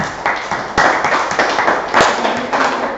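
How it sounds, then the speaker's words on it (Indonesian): A class claps for a group of students who have just presented their work, in dense, steady applause that fills the room, with a few sharper taps and thuds standing out. "Kita berikan dulu tepuk tangan untuk mereka."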